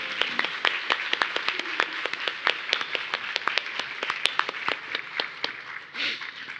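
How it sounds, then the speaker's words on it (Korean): A church congregation at a Sunday service applauds its pastor, a dense run of many hands clapping steadily at close range with sharp individual claps standing out, continuing without pause and without talk over it. "우리 4년 동안 수고하신 이승현 목사님께 박수로 좀."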